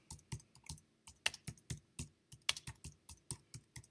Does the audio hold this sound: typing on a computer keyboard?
yes